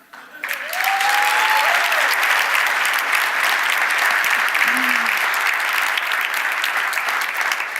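Loud, continuous applause from an audience at an Icelandic business conference session on leadership, swelling quickly and holding steady throughout, with a brief voice heard near the start.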